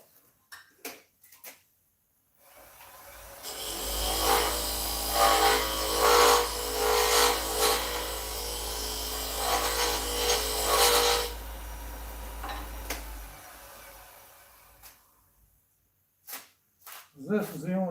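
A lathe turns a workpiece, taking about a millimeter off in a continuous rubbing, cutting run of roughly ten seconds with a low hum beneath, bracketed by brief clicks and short talk.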